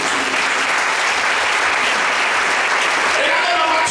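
A church congregation at a Sunday worship service applauding to acclaim Jesus, a loud, dense burst of clapping that runs unbroken throughout, with voices mixed in.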